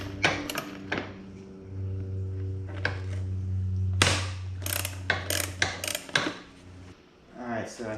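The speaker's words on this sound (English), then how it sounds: "to remove this seat, it looks like we have to undo these bolts." Ratchet undoing the seat bolts on a 2002 Honda XR80R motorcycle: close, quick bursts of ticking clicks in short runs with pauses between, and light metallic handling under a faint steady hum.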